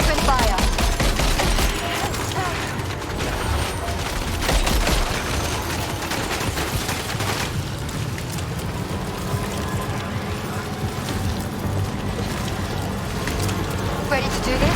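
Sustained gunfire in the video game Death Stranding 2 rattles in rapid bursts that nearly fill the stretch, with dense crackling volleys, heavier thuds and a busy mix of effects behind it.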